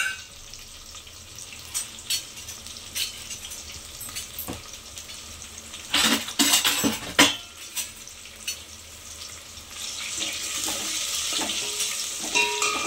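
Spices frying in a pan while being stirred, soft continuous sizzling broken by sharp scraping stirs and clinks, close and moderately quiet.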